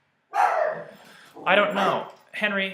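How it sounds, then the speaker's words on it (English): A pet dog barks a few times indoors at close range, short sharp bursts mixed in with a person talking. "That's my dog"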